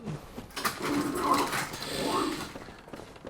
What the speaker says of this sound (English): dog is going nuts.